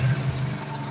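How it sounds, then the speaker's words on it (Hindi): Honda CD70 motorcycle engine idling steadily right after starting on the first kick, a low, even close-up putter held for about a second with no talk. "आपने देखा ये मोटरसाइकिल पहली किक पर ही स्टार्ट हुआ है"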